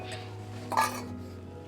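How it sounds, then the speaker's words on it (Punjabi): Dishes being scrubbed give a single brief clatter of pots and cutlery over a low background hum in a kitchen. "ਮੈਂ ਸਾਰੇ ਭਾਂਡੇ ਦੁਬਾਰਾ ਮਾਂਜ ਦਿੰਨੀ ਆ"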